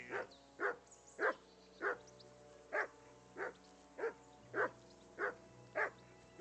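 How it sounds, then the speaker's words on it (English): A dog in the medieval role-playing game Kingdom Come: Deliverance barks in a steady, evenly spaced series of about eleven moderately loud single barks, with no talking. "Whistle at that mutt of yours to stop barking."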